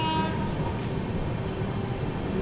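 The CR Rajdhani Express 22222 overtakes a Banaras to Mumbai LTT special train near Ganj Basoda station, heard from on board as a loud, steady rail rumble with a faint high tonal whine throughout.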